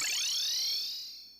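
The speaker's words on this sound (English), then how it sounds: "don't forget the Terraria magic mirror sound" The Terraria magic mirror sound: a short shimmering synthetic chime that sweeps from several descending tones into a single high ringing note, then fades out.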